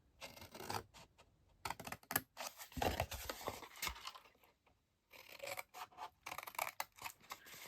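Scissors snip through paper along score lines while shaping a hand cream gift box, in a run of close, crisp cuts with short pauses and a longer gap midway before the cutting resumes.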